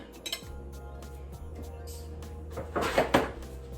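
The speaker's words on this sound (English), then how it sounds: "So let's get a fork and let's get a spoon." A fork and spoon taken from a kitchen drawer, light metallic clinks and rattles over a low hum, with a louder jangle of cutlery near the end, close by and without talk.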